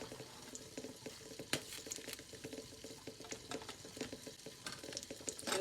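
A sausage link omelette cooks in a pan. A steady, faint bed of light crackling and patter carries scattered sharper pops, and no one talks.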